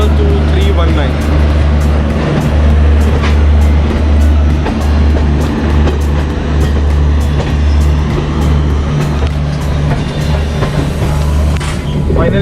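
Nizamuddin–Jabalpur Mahakaushal Express standing at a platform with its Kanpur-based WP4 locomotive. A steady, loud low hum runs throughout, under busy station noise and scattered background voices.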